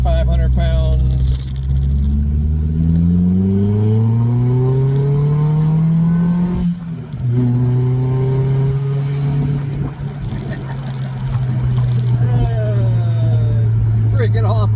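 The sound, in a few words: supercharged BMW Z3 1.9L with straight pipe exhaust driving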